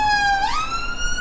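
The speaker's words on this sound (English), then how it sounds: "we have sirens go past the window" A siren sweeps past outside a window in South Central, its wailing tone bending in pitch as it goes by, steady and fairly loud over a faint background hum.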